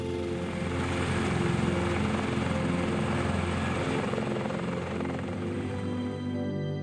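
A CH-53K heavy-lift military helicopter in flight during an invasion exercise, a steady loud rotor and turbine drone with a thick low throb, continuous and unbroken throughout with no talking.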